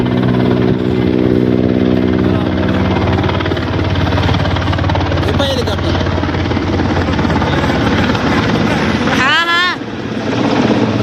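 A loud helicopter drones steadily nearby over the mountains at Mana village near Badrinath, Uttarakhand, with thumping rotor noise throughout, while a person speaks briefly in Hindi over it.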